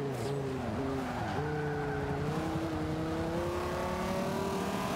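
An SRT Viper race car in Forza 5 revs hard through its gears, the engine tone climbing and dropping at each shift in the first seconds before holding a long, rising high-revving pull, steady and fairly quiet.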